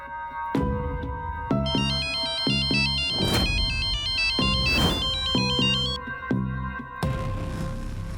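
A mobile phone ringtone plays a repeating electronic melody of bright, even tones, looping over several seconds at moderate volume, with brief noise bursts between phrases and no talking.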